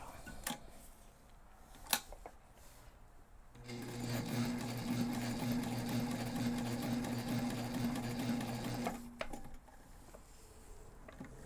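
A sewing machine stitches backpack webbing in a steady, fast mechanical run of several seconds, bracketed by a few sharp clicks and handling noises before and after.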